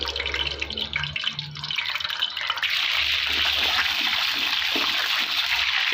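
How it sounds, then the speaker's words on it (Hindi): Boiled eggs frying one at a time in hot oil in a pan: a steady, loud hiss and crackle of sizzling oil that swells partway through and keeps going, with no talk. "एक एक करके हम डाल के इसको फ्राई कर लेंगे"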